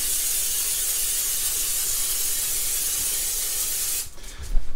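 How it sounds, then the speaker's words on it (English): Cooking spray hisses onto a cupcake pan in one steady, close, continuous spray lasting about four seconds, then cuts off and is followed by a few soft handling knocks. "So this has actually been already sprayed, but I'm gonna give it another little hit."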